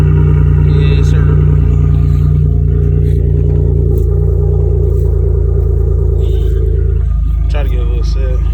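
Engine of a 2007 Chevy Monte Carlo running loud through its exhaust pipes, a steady deep rumble with a brief rev near the end, recorded close.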